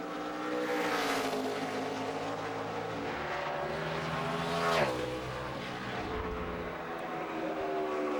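NASCAR race car at full speed on a qualifying lap at the 2012 Federated Auto Parts 400, a loud sustained engine roar with shifting pitch and a brief surge as it passes near, with no talk.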